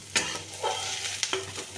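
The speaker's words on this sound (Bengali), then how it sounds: "আর রসুন আর পেঁয়াজ একসাথে ভেজে নিলাম" Garlic and onion frying together in a pan give a soft, steady sizzle with a few light scraping stirs, heard close and quiet.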